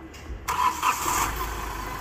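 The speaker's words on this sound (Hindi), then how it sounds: "गाड़ी स्टार्ट करो" A Hyundai Xcent diesel engine with a low-pickup fault cranks and catches after a short quiet moment, then settles into a steady idle nearby.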